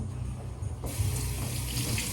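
A tap suddenly opens into a steady, close rush of running water for hand washing, continuing alone without talk.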